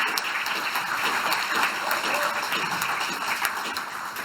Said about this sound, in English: a round of applause to both Phil and Reese who have put this together